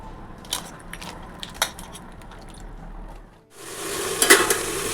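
Mixed vegetable chorchori with bay leaf, dry chili and panch phoron, first stirred with scattered utensil clinks against the pan, then a loud, steady sizzle of frying that swells and continues to the end.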